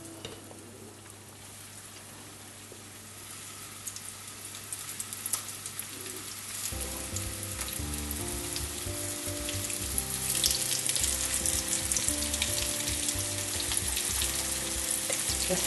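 Meatballs dropped into hot oil in a home kitchen for a grandmother's recipe, a soft hiss that swells into a louder, dense frying sizzle partway through, close and continuous with no talking.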